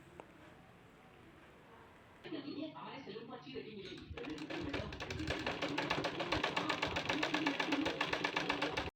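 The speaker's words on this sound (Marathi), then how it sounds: "आणि त्यावर एक अशी शिलाई मारून द्यायची आहे" A sewing machine stitches the princess cut seam of a three-piece blouse, starting as a quiet hum, then running in a rapid, steady mechanical chatter that grows louder, with a voice speaking over it early on.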